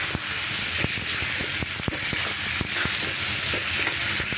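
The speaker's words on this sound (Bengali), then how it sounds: "এখন আমি এটা দিয়ে ভেজে নিচ্ছি।" Spices and tomatoes fry in a pan for a Bengali vegetable and small-fish curry, giving a constant close sizzle broken by frequent sharp clicks and scrapes of stirring, with no talk.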